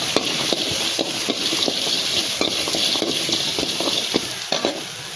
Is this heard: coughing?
no